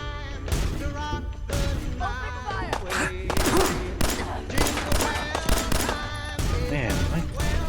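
Rapid gunfire from the player's guns in Dragon Age: The Veilguard, with dense bursts and volleys of shots firing loudly and continuously over a busy battle mix with music.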